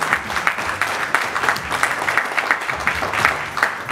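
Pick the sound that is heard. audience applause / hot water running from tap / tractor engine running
audience applause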